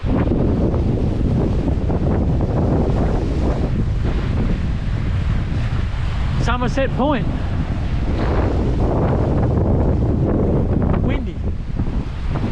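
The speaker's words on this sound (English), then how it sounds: "Windy." Strong wind buffets the microphone at Somerset Point, Cape York, a loud continuous roar with surf beneath it, while a voice speaks briefly midway.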